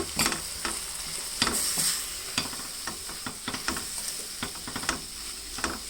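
Garlic and cumin fry in a pan for an amaranth leaf fry, with dry red chillies in the dish, giving a continuous close sizzle broken by frequent scraping and stirring clicks.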